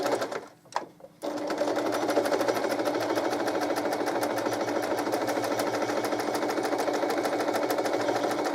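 Sewing machine stitching quilt block pieces together with a quarter-inch seam: a brief pause near the start, then a steady, loud, rapid mechanical chatter running continuously up close, with no voices.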